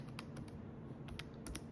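Numbers being tapped into a calculator, a quiet scatter of short plastic key clicks in irregular groups over a soft background hum.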